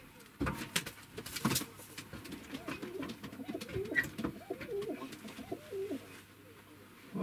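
Pigeons coo repeatedly in a soft, rhythmic murmur, a steady run of low calls at close range with a few rustles and a brief bump.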